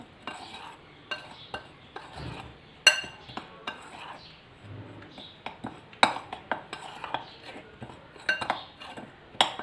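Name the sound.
mixing ingredients in a bowl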